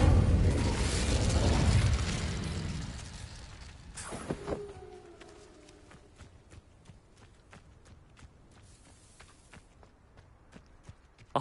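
Incendio fire spell cast in Hogwarts Legacy: a loud whooshing burst of flame for a few seconds, then a sharp crack and ringing tone, fading into scattered crackling and small hits as it dies away.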